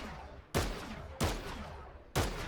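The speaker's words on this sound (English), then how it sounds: "he knows I'm there, so he shoots at me. I shoot back." Gunfire exchange in the Fortnite video game: three loud, sharp shots roughly evenly spaced, each with a broad crack and a lingering tail, with no talking.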